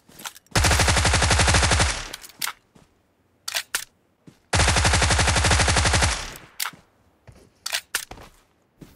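Rapid automatic gunfire in a shooter video game comes in two long, loud, sustained bursts, separated and followed by short single shots and clicks.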